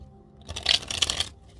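Tarot cards being shuffled in a short riffling burst of papery rustle lasting about a second, close and fairly quiet, with no talk.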